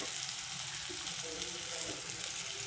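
Tomato and bell pepper frying together in a hot pan, a steady close sizzle with soft stirring scrapes throughout, no talking.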